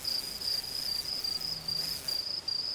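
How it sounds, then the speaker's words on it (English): Crickets chirp in a continuous high trill against a quiet nighttime background, pulsing with slight breaks. "You hear the buzzing of insects."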